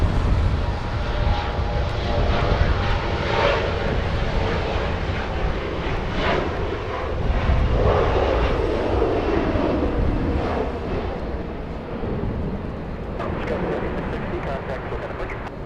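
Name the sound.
SAS airliner landing at Los Angeles airport in crosswind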